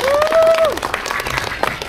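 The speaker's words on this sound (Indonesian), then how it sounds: "Kasih tepuk tangan dulu untuk Pak Jonathan." Audience clapping at a film press event, a short burst of applause from a small crowd, with a host's voice heard briefly at the start.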